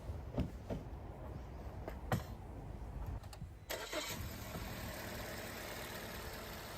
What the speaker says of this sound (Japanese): 念のためエンジンかけてみます。